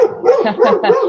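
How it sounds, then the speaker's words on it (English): Dogs bark in a quick run of three close, loud woofs during a live podcast recording, with no talk over them. "Sorry about the dogs there."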